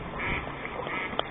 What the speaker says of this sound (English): Dogs harassing the ducks.